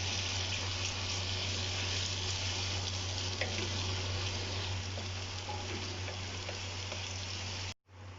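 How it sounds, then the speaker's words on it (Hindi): Ginger garlic paste frying in a pan with browned onions, a steady loud sizzle and crackle running continuously for several seconds before cutting off abruptly near the end. "अब मैं इसमें ये अदरक लहसुन का पेस्ट डाल दूँगी। इसको अच्छे तरीके से फ्राई कर लेना है।"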